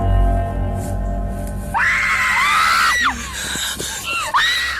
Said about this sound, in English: We are left filled with screams and confusion.